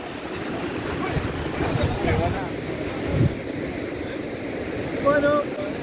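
Rough sea surf pounds a shore during a fishing outing, a steady loud wash of breaking waves mixed with wind buffeting the microphone, with a brief faint voice.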